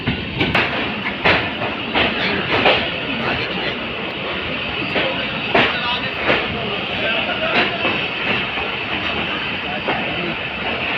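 The Bahauddin Zakariya Express (25UP) runs on the rails near Multan Cantt, with a loud, continuous rumble and repeated sharp clickety-clack wheel impacts spaced irregularly across the stretch.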